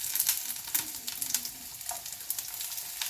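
Chopped small red onions hit hot oil with popping mustard seeds in a pan, giving a close, bright sizzle with rapid crackles and a few sharper spits, steady and moderately loud, with no voices.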